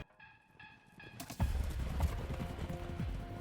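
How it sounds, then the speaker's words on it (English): Wild mustang horses with hooves clip-clopping in a steady, fairly close rhythm, a few soft tonal notes before the hoofbeats grow louder and denser, with no talking. "Now there are the Mustangs, or wild horses, the symbol of the American Wild West."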